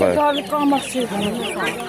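Chickens at a poultry market cluck and squawk in a busy, overlapping flurry, close and loud, with no gaps between calls.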